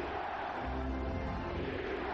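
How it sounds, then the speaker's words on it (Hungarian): Basketball arena crowd at a Lakers vs Mavericks game, a steady broad roar of cheering and noise held level throughout, with no clear pauses. "És megjött a közönség hangja is."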